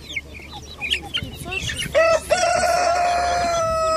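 Brahma chickens cluck in short, scattered calls at close range, then a rooster lets out a loud, sustained crow that carries to the end, with faint background voices underneath.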